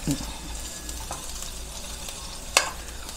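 Garlic sautéing in a pan with ginger, a soft, steady sizzle with light stirring and a single sharp clink of a utensil toward the end.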